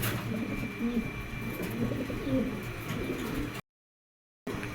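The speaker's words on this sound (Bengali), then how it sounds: "এই যে দেখেন দেখছেন সিরাজি মাদি কবুতর" Sirajee pigeons, including a female, coo in soft repeated throaty calls over a continuous low background, with a brief complete dropout near the end.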